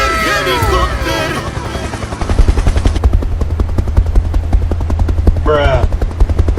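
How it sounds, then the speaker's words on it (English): A helicopter, heard during a miniature DIY tractor pond-digging project in the hills, gives a steady loud low rotor thump throughout, with excited voices and game-like bangs over it. "Helicopter, helicopter!"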